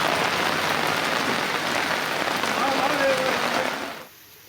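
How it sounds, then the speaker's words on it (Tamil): Drizzling rain falls in a steady wash of fine patter for most of the moment, then drops away sharply to near quiet near the end; no voices are heard. "சாரல் மழை பொழிந்தது"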